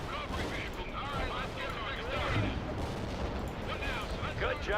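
Airstrike explosions and scattered gunfire from a World in Conflict Soviet Assault battle, a dense, continuous wash of booms and crackling shots, with faint voices underneath.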